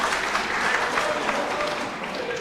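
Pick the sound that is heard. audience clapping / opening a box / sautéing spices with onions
audience clapping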